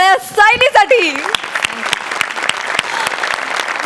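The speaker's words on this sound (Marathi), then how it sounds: "जोरदार टाळ्या सायलीसाठी" An audience breaks into sustained applause for a performer on a Marathi comedy show, following a short burst of sung or excited voices at the start, with dense clapping continuing strongly to the end.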